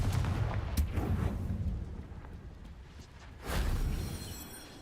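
Confringo fire spell blasts in the video game Hogwarts Legacy, heard as rumbling explosive booms with a sharp burst near the start and a second heavy blast later, loud and dense with no speech.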